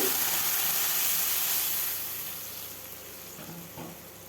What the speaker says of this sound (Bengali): ভাজা হয়ে গেছে দিয়ে দিলাম গরম জল